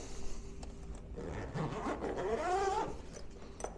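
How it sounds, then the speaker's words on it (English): A zipper drawn along a bag holding a 12V LiFePO4 battery, a rising scraping whir that lasts a couple of seconds, close by and fairly quiet. "Zip it up."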